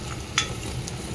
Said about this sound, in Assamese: সুন্দৰকৈ ভাজিম